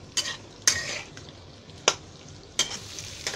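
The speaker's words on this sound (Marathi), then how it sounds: "बटाटे आहेत ना ती फिरवून घ्यायची तेलामध्ये." Potatoes fry in oil in a pan with a soft, faint sizzle, broken by several sharp scraping clinks of a spoon stirring them against the pan.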